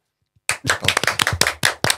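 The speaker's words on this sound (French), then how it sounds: "Applaudissez-le." A small group claps after a short silence, a handful of close, sharp hand claps in an uneven rhythm, loud and isolated with no talk over them.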